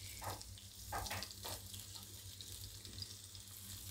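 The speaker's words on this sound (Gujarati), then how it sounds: "એટલું જ આપણે નાખવાનું પાણી." Water poured into a hot pan of sizzling cauliflower curry, a few splashy bursts over a continuous frying hiss that settles into steady bubbling sizzle.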